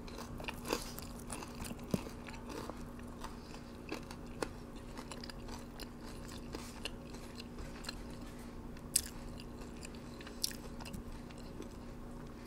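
Garlic parmesan Wingstop chicken wings are bitten and chewed up close, with repeated crisp crunches and soft chewing that continue steadily over a faint, constant background hum.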